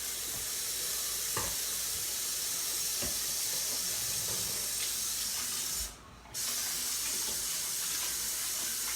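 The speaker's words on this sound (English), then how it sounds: "Let me wash my hands." A steady stream of tap water runs as hands are washed free of caramel and pistachio, a continuous close splashing hiss that cuts out briefly near the end before resuming.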